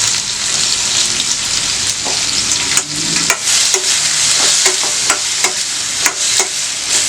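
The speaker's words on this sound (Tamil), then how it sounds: "இது ஒரு 2 மினிட்ஸ் வதங்கட்டும்." Chopped yam and onion sizzle steadily in a hot pan, a close hissing fry with scattered light clicks of a spoon stirring through it, no speech.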